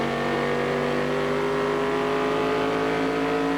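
NASCAR race cars roaring around New Hampshire International Speedway in a 1997 race, a sustained loud engine drone with steady harmonic whine shifting slightly in pitch, no breaks.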